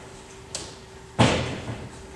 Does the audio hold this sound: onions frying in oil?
no